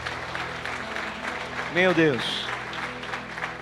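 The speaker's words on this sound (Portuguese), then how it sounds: "Pode aplaudir Jesus, querido." A church congregation applauding during a bishop's sermon, steady clapping throughout under a preacher's loud exclamation in Portuguese.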